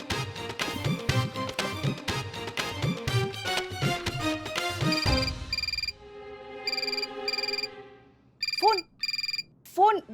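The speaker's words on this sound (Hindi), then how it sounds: "फोन बज रहा है" A telephone rings in repeated bursts with short pauses between them, loud and close in an indoor comedy scene. Before the ringing begins there is a busy stretch of music and voices.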